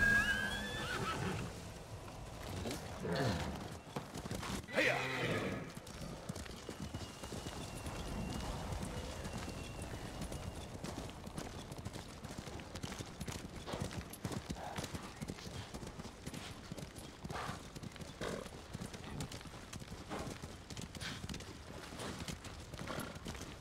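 Horse in Ghost of Tsushima neighing and whinnying near the start, then hooves clip-clopping steadily through the rest, with game music and ambience underneath.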